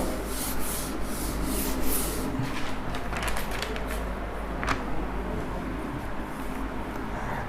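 Eraser or duster rubbed across a classroom board, a steady scrubbing friction with rhythmic strokes lasting throughout, close and moderately loud, with no talking.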